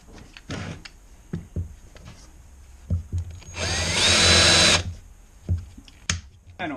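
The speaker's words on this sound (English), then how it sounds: "So let's go ahead and get this drilled" A drill bores into a shifter part bottomed against a mandrel, whining in one sustained burst of about a second and a half amid scattered clicks and handling knocks nearby.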